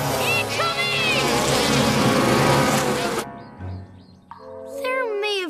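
A dense cartoon bee swarm in The Lion Guard buzzes loudly and continuously with whirring wingbeat tones, then cuts off abruptly into quieter animated voices and squeals, with talk and vocal sounds following.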